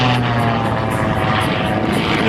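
A Boeing Stearman biplane at an air show climbs straight up, its propeller engine droning loud and close with a steady throbbing pulse throughout.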